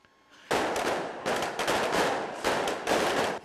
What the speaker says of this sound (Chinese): 炮仔烟火是放甲真大声